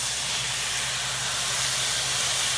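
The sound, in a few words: diced tomatoes sizzling in hot pan with partially cooked rice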